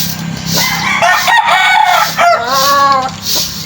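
A game rooster at a poultry farm in Bulakan, Bulacan, Philippines crows loudly and close by, giving two drawn-out cock-a-doodle-doo calls in quick succession.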